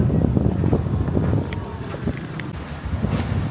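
Gusty wind buffets the microphone outdoors at a festival, a steady low roar with rumbling swells and a few faint background sounds, and no clear talk.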